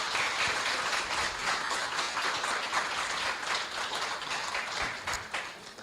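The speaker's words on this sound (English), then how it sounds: "let's give a clap to our 14 contestants" An audience claps for the 14 Miss Heilala 2026 pageant contestants, a full burst of applause with individual claps standing out, sustained steadily for several seconds.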